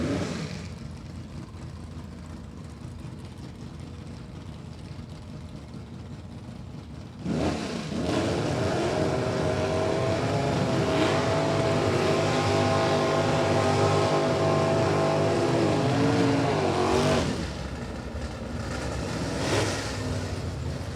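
Stock Eliminator drag racing cars launch down the strip, engines revving up sharply after a steady idle, holding a loud roar for about ten seconds before fading, heard from a distance with no voices.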